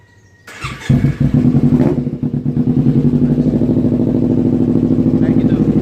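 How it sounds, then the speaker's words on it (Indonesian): A 2012 Kawasaki Ninja with a racing exhaust starts up close by, revs briefly, then settles into a loud, rapid, throbbing idle. "Ini suara motornya kayak gini."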